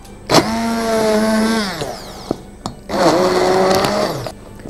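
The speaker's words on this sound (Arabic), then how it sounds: "وهجيب الهاند بلندر وابتدي اخلطهم مع بعض" A hand blender mixing dessert ingredients whirs loudly in two close bursts, each with a sharp start, a steady motor hum and a falling pitch as it stops, with a short pause and a clack between them.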